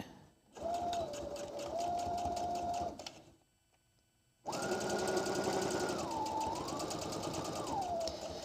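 A sewing machine top stitching and back stitching hums loudly in two runs with a brief silent pause between, and its motor pitch shifts slightly as the direction changes.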